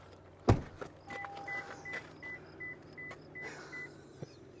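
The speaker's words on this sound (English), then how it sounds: "There was two different beeps on that one," Lexus RZ 450e electric car sounding a series of short warning beeps in two different tones, evenly spaced over a few seconds after a door-like thump, close and clear with no talk.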